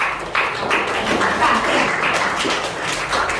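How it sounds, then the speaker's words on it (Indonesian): Students in a classroom clap for a group after its presentation, a dense, steady patter of many hands starting abruptly and continuing close by to the end. "Bagus ya, tepuk tangan buat kelompok"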